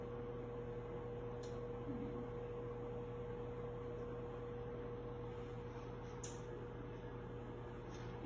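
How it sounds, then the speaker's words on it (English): A microwave oven runs while making popcorn, a faint, steady hum with a constant tone that continues unbroken, joined by a few soft clicks and no voices. "we need to listen to the microwave"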